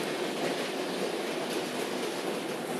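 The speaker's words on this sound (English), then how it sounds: "Here comes the train that's supposedly going all the way to London." A Hornby B12 model steam locomotive runs on an East Anglian model railway layout, giving a steady, continuous rolling rumble and light track clatter, close and moderately loud throughout with no talk.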